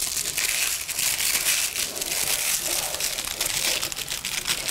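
Baking paper crumpled tightly and folded around a metal cake ring as the ring is turned, a continuous loud crinkling and crushing close to the microphone, with no talking.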